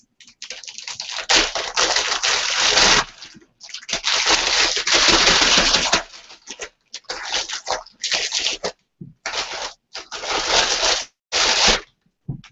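Plastic vegetable packaging holding peppers, squash and zucchini is crumpled and handled close up before roasting, giving loud, crackling bursts that come in long stretches and shorter snatches with brief silent gaps.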